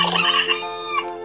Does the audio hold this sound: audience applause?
no